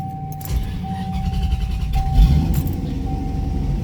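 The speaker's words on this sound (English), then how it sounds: "push the clutch down, start it, put in accessory" A 1994 Corvette C4 with LT1 V8 and six-speed manual starts up, a short cranking burst settling into a steady, close idle rumble; a brief alarm-like tone sounds and keys jangle at the start.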